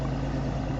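A 150 HP Mercury Optimax outboard on a 2011 Hurricane 188 SS deckboat idles with a steady low, even rumble, close and continuous for a brief moment with no talk.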